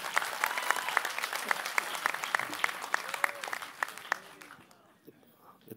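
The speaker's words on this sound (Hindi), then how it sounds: "और अब जोरदार तालियां बजा लें प्लीज।" Audience clapping at an Urdu poetry gathering, a dense, fairly close burst of applause that thins out and fades toward the end, with some voices mixed in.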